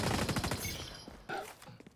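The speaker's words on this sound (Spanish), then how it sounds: "Un disparo fácil, venga, tírale." Gunfire in the video game XDefiant, where an L115 sniper rifle is in use, a rapid burst of sharp shots followed by quieter scattered reports, heard close and fairly faint overall.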